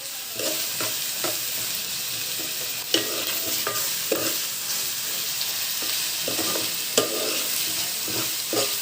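Goat curry fries and sizzles in a pan with a steady hiss, while a spoon clinks and scrapes against the pan at intervals, giving a few sharper knocks over the continuous frying.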